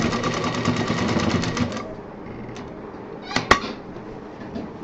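A sewing machine stitching the back belt of a folding tour bag runs in a fast, steady mechanical whir for almost two seconds, then stops, leaving quiet handling noise and a single sharp click.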